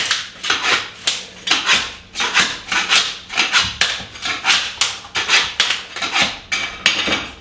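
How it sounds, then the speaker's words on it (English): Linoleum floor tile pried up by hand with a pry bar or putty knife: close, rhythmic scraping and rasping strokes repeat steadily, each a short gritty burst, with no talking. "Pry up the corners and then use pry bar or a putty knife to get the rest of it."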